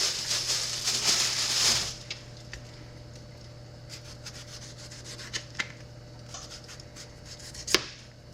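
Peppers being chopped for home-canned Ball Fiesta salsa, a knife working through them on a cutting board after peeling and seeding, with a rough rubbing burst at first, then sparse light taps and one sharper knock near the end.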